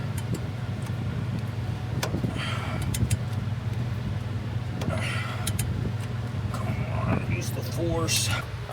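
A Honda Civic with new wheels reverses, its engine idling in a low steady rumble close by, while people talk over it and a few clicks and knocks come through.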